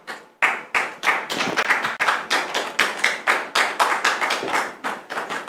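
Studio audience on a French-language talk show clapping to welcome a guest, rhythmic, close applause with distinct individual claps, steady and fairly loud for several seconds without talk.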